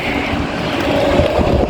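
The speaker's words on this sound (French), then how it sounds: "dans le sud-ouest, il y a plein de vent" Strong wind in south-west France roars steadily against the microphone, a dense, continuous buffeting rush with no pauses and no voices.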